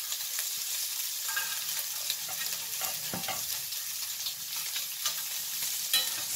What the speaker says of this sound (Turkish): köftelerinizi çevirerek de bu şekilde kızartabilirsiniz